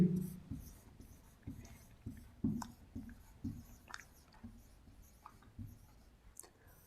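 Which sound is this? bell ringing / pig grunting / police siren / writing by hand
writing by hand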